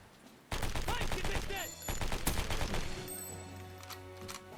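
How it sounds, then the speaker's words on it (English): Gunfire in the N64-style shooter S.O.E. 64, a rapid burst of sharp shots followed by a few more cracks and a lingering electronic tone, loud and close with no talking. "there's a louder click sound when they die from a gunshot"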